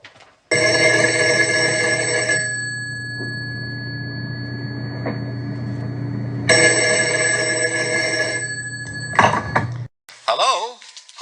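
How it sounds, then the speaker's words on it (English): Telephone bell ringing loudly indoors in two long, steady rings separated by a pause, with a short third ring and then a voice right after. "when the phone rang again"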